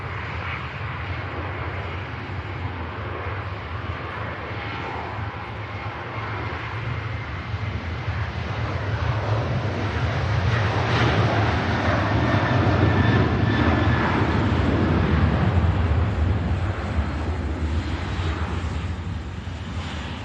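A Boeing 737 bound for Marrakesh departs Manchester Airport, its jet engines a broad, steady roar that swells louder through the middle of the takeoff and stays heavy to the end, with no voices over it.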